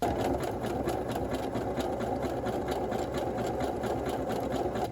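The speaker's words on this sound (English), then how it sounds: "I'm going to take it to the machine and we will sew the elastic in" A sewing machine sews elastic into a waistband seam at close range, its needle chattering in a fast, even rhythm with a low motor hum underneath.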